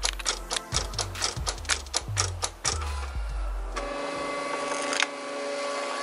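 A Silhouette Cameo vinyl cutting machine runs a cut job, making a series of loud, regular mechanical clacks with motor whirs. These give way to a steady higher whine and buzz, and a sharp click comes near the end.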